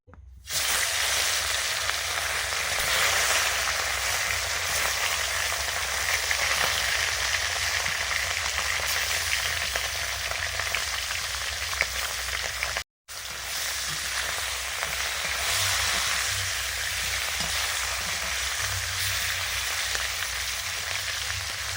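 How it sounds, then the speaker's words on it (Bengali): Fish rubbed with salt and turmeric fries in mustard oil with a loud, steady sizzle that continues unbroken apart from one brief cut, and no voices are heard. "মাছ ধুয়ে এনে নুন হলুদ মাখিয়ে দিয়েছি ভাজবো আর সর্ষের তেল দিলাম"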